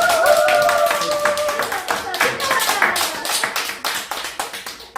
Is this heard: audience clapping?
yes